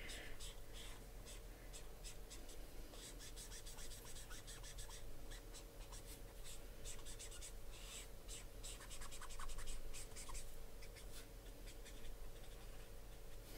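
Copic markers being used to color dragon illustrations on paper give faint, repeated scratchy strokes against a steady low background hum, with brief quiet talk nearby.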